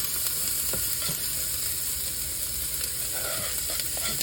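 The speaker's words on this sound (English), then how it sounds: "let's go ahead and add those peppers and onions" Peppers and onions hit a hot pot for tomato soup and sausage rotini, giving a steady, close frying sizzle with light stirring clatter throughout.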